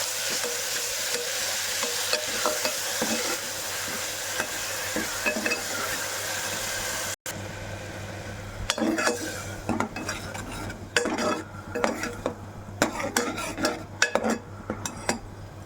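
Cumin and garlic-chili paste frying in hot oil as a tempering, a steady sizzle at first, then stirring and spoon scrapes against the pan with irregular clinks, close and fairly loud, with no talk.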